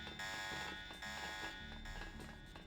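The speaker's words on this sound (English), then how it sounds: "the alarm is going off due to, like, stuff I caused" Fire alarm sounding in a steady, loud electronic tone with a few brief dips, continuous across the whole moment with no voices.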